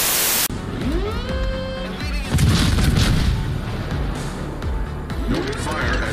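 Naval guns boom in World of Warships, a loud broadband blast near the start followed by dense rumbling salvos and whooshing shell noise that keep the scene busy throughout.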